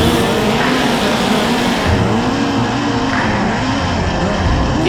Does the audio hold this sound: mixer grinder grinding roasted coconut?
no